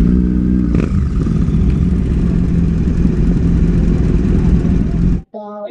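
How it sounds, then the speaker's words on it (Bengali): Superbikes arrive at a large motorcycle rally in Eastern India, loud engines rumbling and idling up close in a dense continuous roar, with a sharp rev near the start and a brief voice at the end. "এবার আমরা সুপার বাইক ঢুকছে"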